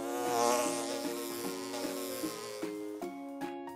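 Insects buzz in a forest setting, a steady droning hum with harmonic tones running throughout, moderately loud, with slight pulsing and no speech.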